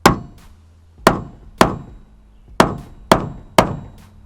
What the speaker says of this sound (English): what do you do with a brand new vehicle? You hit it with a